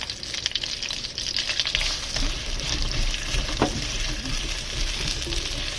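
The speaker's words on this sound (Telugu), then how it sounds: "ఆనియన్స్ తొందరగా వేగాలంటే మనం కొంచెం ఉప్పు వేసుకోవాలి" Onions with a pinch of salt fry in hot oil, Nellore style, a steady close sizzle running the whole time with a few soft stirring scrapes.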